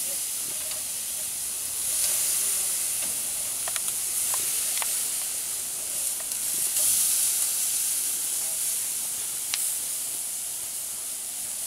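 Steady sizzling hiss of pork neck chops cooking on a hot barbecue grill, continuous and fairly close, with a few faint pops and crackles and no talking.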